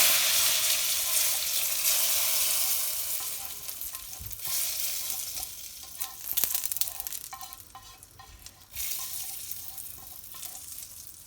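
Hot oil tempering sizzles loudly as it is poured into red lentil curry, then fades into softer bubbling with scattered clinks and stirring noises; no one speaks.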